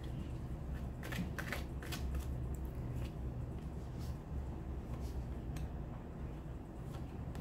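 Oracle cards being handled and shuffled, quiet close riffling and sliding bursts of paper, soft and steady with no talk.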